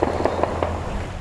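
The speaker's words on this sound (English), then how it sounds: "Within minutes, hear too the sounds of gunfire." Sharp cracks of gunfire on a city street, several rapid pops in quick succession at moderate distance over steady background noise.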